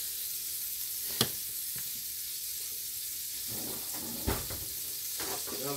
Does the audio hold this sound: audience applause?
no